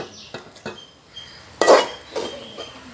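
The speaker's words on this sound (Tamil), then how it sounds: "இப்போ இந்த கட்டு வச்சு நாங்கள் இதை 2ஆக பிரித்து எடுப்போம். வேறு இந்த சட்டியில் மாற்றுவோம்." Sticky coconut milk toffee mixture scooped and moved into another pan, giving scattered clinks and scrapes of metal utensils against cookware, one louder knock partway through, close and quiet, no voices.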